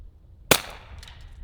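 A single suppressed shot from a Ruger Mark IV .22lr pistol fired at a long-range target, one sharp close crack followed by a faint distant report, with quiet outdoor background before and after.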